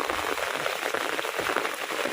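Heavy rain pours down steadily, a dense close hiss of drops striking a surface with no voices.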